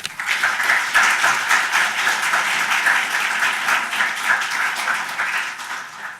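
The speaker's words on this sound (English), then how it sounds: "Normally you wait to hear what I say before you clap" Sustained, dense applause from an audience in a law school moot court room greeting the dean, steady and even for several seconds before tapering slightly at the end.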